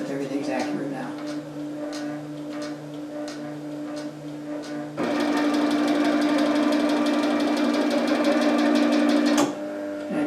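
Automated band saw with Accu-Slice index wheel running, a steady mechanical hum with ticking, rising louder and denser at about five seconds, then dropping near the end; a voice is heard in the background.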